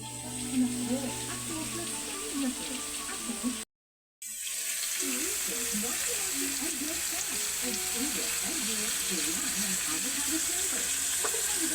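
Fish sauce is splashed into a pan of frying squash and meat, setting off a loud, steady sizzle with scraping stirring that briefly cuts out and then resumes.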